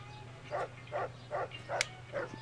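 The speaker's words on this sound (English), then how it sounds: "Bloody dogs." Dogs bark in the video game Fallout: New Vegas, five evenly spaced mid-distance woofs over a steady low game hum, with one sharp click near the end.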